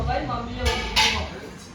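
Dishes and utensils clink and scrape in a home kitchen while they are scrubbed clean, with a few brief bright clatters over steady low background noise, and voices talk throughout.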